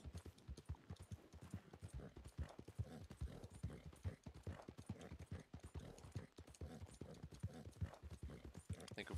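Steady clip-clop of horse hooves in Red Dead Redemption 2, a gray Mustang moving at an even rhythmic pace, close and clear throughout with no talk.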